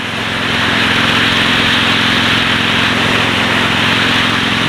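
Motorbike engine droning steadily on a ride out on an overcast day, a loud continuous hum with low rumble and broad wind noise, no voices.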